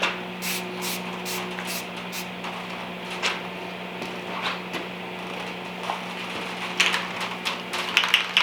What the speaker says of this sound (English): Not like I'm sitting painting this whole thing out in a closed-in building.